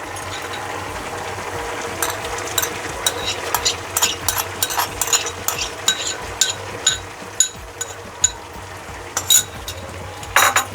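Fried eggs being stirred and mixed into a bubbling Dhaba-style egg tarka, giving irregular scraping and clinking spoon strokes against the pan over a low steady simmer, with sharper knocks toward the end.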